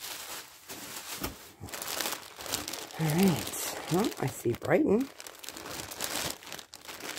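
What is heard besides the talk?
packing paper crinkling while unboxing a ThredUP jewelry box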